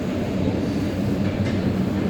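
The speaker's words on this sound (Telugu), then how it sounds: "అసలు నెంబర్ ప్లాట్ఫామ్లోకి రేపల్లి గుంటూరు ప్యాసింజర్ వస్తుంది" Repalle–Guntur MEMU passenger train pulling into a station platform, a steady loud rolling rumble with no break and no voices.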